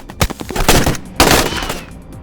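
Burst of gunfire from a Pakistani action film, police clashing with a gang, with rapid sharp shots in quick succession, then a dense loud volley of overlapping fire that trails off, close and with no talking.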